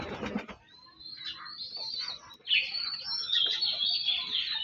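Pigeons in a loft, with bright chirps and twittering calls running steadily through, a short rustling burst at the start and a low background murmur.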